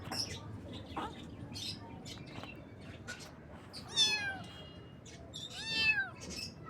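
A kitten lets out two short, high meows a couple of seconds apart, fairly faint, over a soft outdoor background with light chirps and rustling.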